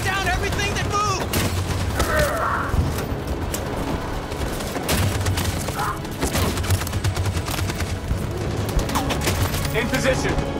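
Dense, sustained automatic gunfire in the video game Detroit: Become Human, a battle scene with rapid bursts layered over explosions and a low rumbling score, with voices shouting beneath the constant roar of shots.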